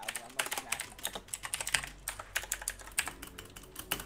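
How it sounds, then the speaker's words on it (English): A mechanical computer keyboard with Cherry Red switches is typed on fast and close, a dense run of sharp clacks and taps with irregular rhythm. No one speaks. "Tap, tap, tap. My keyboard"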